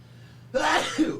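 A single sharp sneeze bursts out after a quiet moment, loud and close, with a short second burst trailing right after.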